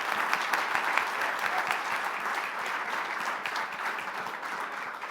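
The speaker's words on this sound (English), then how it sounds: "I think we all owe them another heartfelt round of applause." Audience applause fills the room after a demo day showcase, a dense steady patter of many hands clapping at a fairly even level throughout, with no voices over it.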